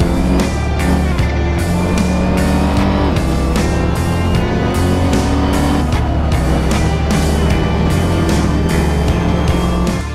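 A Ferrari race car at full throttle on the Mugello circuit, its engine roaring loud and continuous from an onboard perspective, with a rapid rhythmic pulsing of gear changes and rev swells and no talk.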